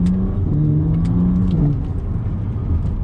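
A BMW Z4 35is twin-turbo pulls hard under acceleration, its engine drone steady and close from inside the car, with a low rumbling underneath.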